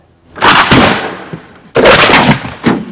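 Two loud, booming blasts about a second apart, each a sharp burst followed by a rumbling decay, close and powerful.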